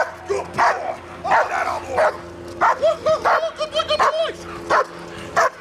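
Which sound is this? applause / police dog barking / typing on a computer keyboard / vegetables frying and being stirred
police dog barking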